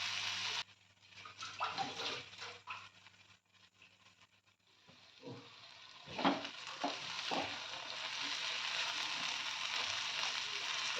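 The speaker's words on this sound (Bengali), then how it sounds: "আমার মশলাটা কষা প্রায় হয়ে গেছে, এবার চিংড়িগুলো দিয়ে দেব।" Prawns sizzling and frying in a spice paste for chingri jhal, with intermittent stirring clatter and hissing, fairly quiet and close, growing steadier toward the end.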